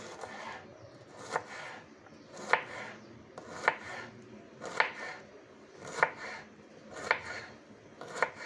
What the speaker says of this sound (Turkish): Soğanları kıyıyoruz, doğruyoruz.